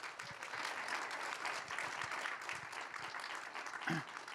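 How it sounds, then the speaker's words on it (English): Audience at a university leadership event gives the panelists a round of applause: dense, even clapping from a room of people, moderately distant and soft, with a brief voice near the end. "So just a round of applause for our panelists"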